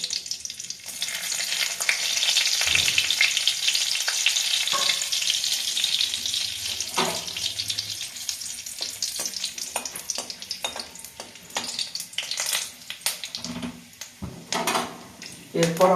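Cardamom pods and cinnamon sizzle and fry in hot ghee for a homemade pulao, a steady close hiss with scattered pops and brief stirring scrapes throughout.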